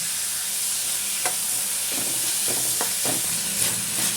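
Onion, green chilli and ginger sautéing in a pan: a steady sizzle runs throughout, broken by several spatula scrapes and stirs, with no voices.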